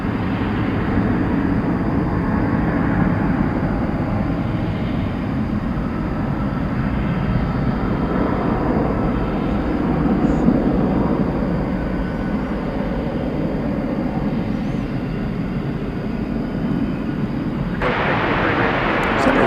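Cargo plane departing a runway at DFW Airport at night roars with a steady, heavy broadband engine rumble that holds for nearly twenty seconds, with a person talking now and then over it.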